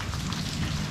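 Steady rain falling outside a garage beside a parking lot, a dense continuous patter and hiss that stays loud and even throughout with no voices.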